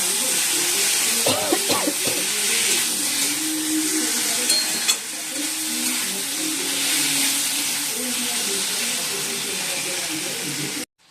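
Potatoes go into braised meat in a hot pan, raising a loud, steady sizzling hiss that runs almost unbroken and then cuts off abruptly. A brief voice-like sound is heard near the start.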